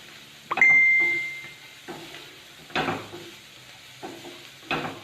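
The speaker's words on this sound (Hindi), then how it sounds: "और सारे चीज़ों को अच्छे से मिक्स करते हुए फ्राई कर देंगे।" A snack mixture with turmeric powder is stirred and fried in a pan over low flame: a spoon scrapes and clinks against the metal in several separate strokes over a soft sizzle, close and loud.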